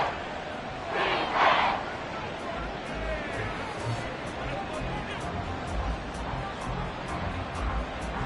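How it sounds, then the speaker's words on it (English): A stadium crowd in a Madden football game keeps up a steady, loud roar of babble and cheering, while a commentator talks over it throughout. "This crowd turning up the decibel level."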